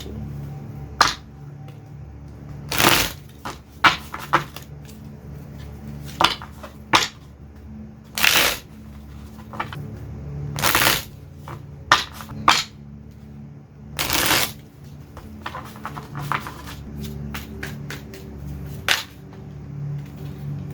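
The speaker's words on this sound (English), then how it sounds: "Shuffle this real quick." Tarot cards being shuffled and riffled in irregular bursts of crisp snaps and slaps over quiet room tone, with short pauses between handfuls.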